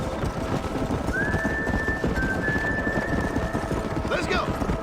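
Horse hooves pound in dense, rapid clip-clop across a Red Dead Redemption cattle drive, continuous and close under game ambience, with a brief whinny-like rising tone near the end.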